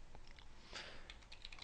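Quiet, close clicks of a computer keyboard being typed on, a short irregular run of keystrokes alone without talk.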